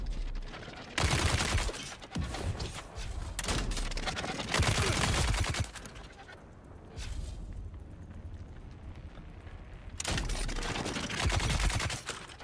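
Bursts of rapid gunfire from the video game Dune Awakening, loud, dense volleys that start and stop abruptly, with heavy booming shots and sustained rattling fire over several seconds.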